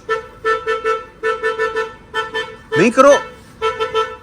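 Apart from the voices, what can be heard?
car horn honking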